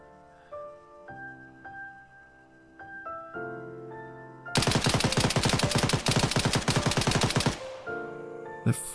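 Video game gunfire in Ravage missions, a rapid, loud burst of automatic shots lasting several seconds, set between calm tonal notes of the game's music.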